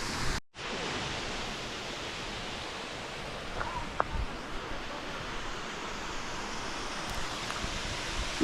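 Susan Creek Falls, a small waterfall, pours in a constant broadband roar that holds steady throughout, with a few faint knocks over the wash.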